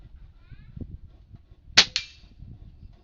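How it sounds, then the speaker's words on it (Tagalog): Two sharp, snappy shots from a Taurus PCP side-lever air rifle crack in quick succession, close and loud against a quiet outdoor background. "tatlong putok"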